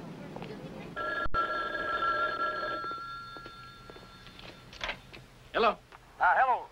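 A telephone rings for about two seconds with a steady electronic bell tone in a 1979 film scene, then fades into background noise. A voice is heard briefly near the end.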